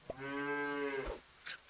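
A single loud cartoonish cow moo from Super Auto Pets, one sustained call of about a second, clean and alone.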